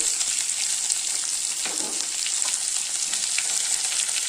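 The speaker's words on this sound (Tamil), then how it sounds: "கொஞ்சம் கருவேப்பிலை போட்டுக்கலாங்க வெங்காயம் போட்டுக்கலாம்" Curry leaves and onion frying in hot oil for a Tamil elephant yam curry, giving a steady, close, even sizzle that holds throughout with no talk.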